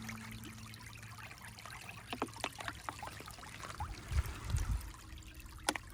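A shallow stream of water rushing and trickling past, with gurgles and small splashes close by and a few louder sloshes as water is scooped from it, plus a low background hum; no talking.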